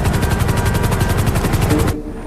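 Helicopter sound effect in a narrated gangster story, a loud, close, rapid rotor chop with even pulsing beats that stops abruptly near two seconds, leaving a faint hiss.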